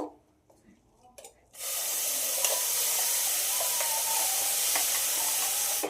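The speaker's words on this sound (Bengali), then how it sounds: "ঘিটা গরম হয়ে গেছে। এবার ব্লেন্ড করে রাখা গাজরটা দিয়ে দেব।" Blended carrot drops into hot ghee in a pan and erupts into a loud, sustained sizzle that holds steady to the end, following a few quiet handling sounds.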